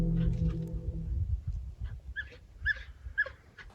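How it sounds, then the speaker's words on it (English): Dogs whimpering in fear near the woods at a campsite, a few high, thin whines and yelps over low rumbling background noise, fairly close. "the dogs were literally running away from the woods in fear, like whimpering almost"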